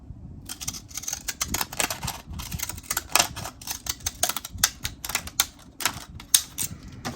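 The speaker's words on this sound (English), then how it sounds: "Let me try my scallop scissors" Cheap children's scallop-edged scissors snip through paper in a fast, irregular run of crisp close cuts and clicks, with no voices.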